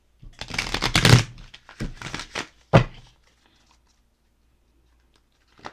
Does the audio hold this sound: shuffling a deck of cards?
yes